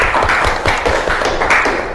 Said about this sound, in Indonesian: Kita beri tepuk tangan dulu untuk semuanya.